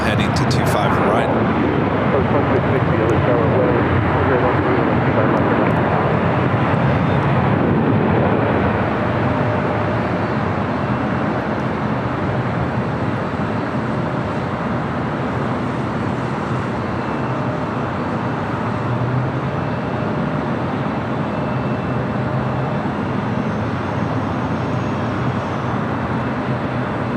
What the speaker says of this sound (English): American 777 300ER Flight 136 heading to London Heathrow, now heading to 25 right.